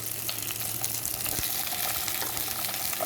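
Sliced tomato frying in a pan, a dense continuous hiss and sizzle with scattered pops, steady and close throughout with no voices.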